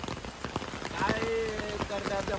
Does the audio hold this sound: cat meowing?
no